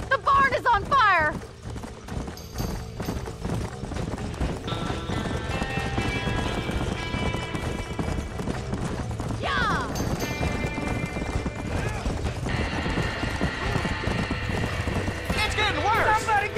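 Horses whinny and their hooves pound in a burning barn in the Red Dead Redemption video game. The loud clattering continues throughout as shrill neighs rise out of it and voices shout over the chaos.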